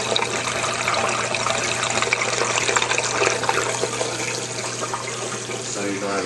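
Water pours steadily down into the sump of a saltwater aquarium filtration system, a continuous close splashing rush with a low hum beneath it.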